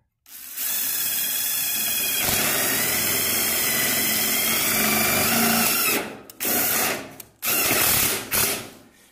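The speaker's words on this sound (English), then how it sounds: "So we'll continue about every 16 inches and doubles on the ends, adding these stainless steel screws." A power drill drives stainless steel screws into wood during a solar power backup build: a loud, continuous whirring run for several seconds, then two short bursts to snug each screw.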